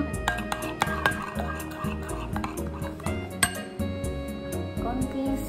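A spoon stirs and mixes meatball mixture, seasoned with black pepper and salt, in a bowl, making a steady run of soft scraping with small clinks against the bowl.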